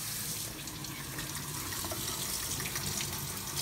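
Water poured into a bowl of eggs, a steady close splashing rush lasting the full few seconds with no voices.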